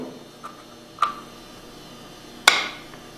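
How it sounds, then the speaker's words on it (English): A rubber hammer taps a part into a Hypro 2535S piston pump, giving three sharp, isolated knocks of increasing loudness, close by in a quiet room. "You may need to tap it down with a rubber hammer to get it fully seated."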